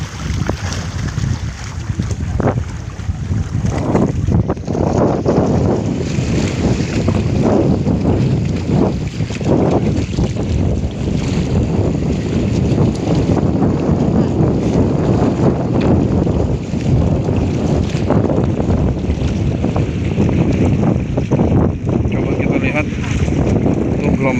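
A small boat tossing on rough, windy sea at fish cage nets near Mandangin Island, with loud continuous wind buffeting, waves slapping against the hull and engine rumble throughout, voices faintly mixed in.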